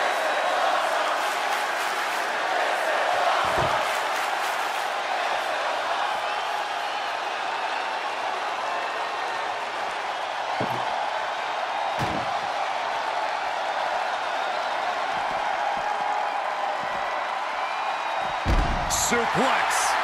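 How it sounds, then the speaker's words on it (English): A loud wrestling-arena crowd in WWE 2K20 roars steadily throughout, with occasional slams and whoops rising from the dense cheering. "when you can't hear yourself think because the crowd's so loud"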